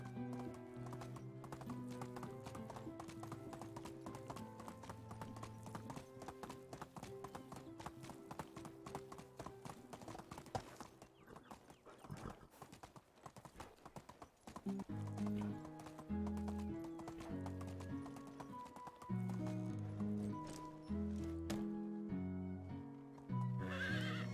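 Horse hooves clip-clopping with occasional neighs in the video game Medieval Dynasty, faint game sounds under a steady musical background, no clear talk.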